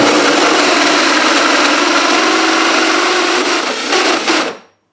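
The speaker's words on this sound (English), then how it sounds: "put 2 hands on that drill" Power drill boring through pallet wood, a dense, steady motor whine with grinding bit noise held loud and close for about four and a half seconds before stopping abruptly.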